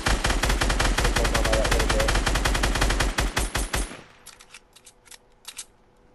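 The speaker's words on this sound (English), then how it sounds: "I sniped a rocket out of the air" Rapid gunfire in the Fortnite video game, a dense burst of shots with the sniper rifle round that hits a rocket among them, loud and close, then a few scattered shots trailing off into quieter background.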